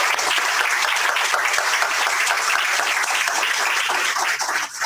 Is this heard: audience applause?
yes